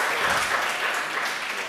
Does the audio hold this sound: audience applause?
yes